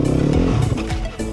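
A Yamaha dirt bike fitted with an FMF Powercore 4 exhaust and MegaBomb header flames out, a loud, close engine burbling and popping in uneven bursts that briefly rise and cut.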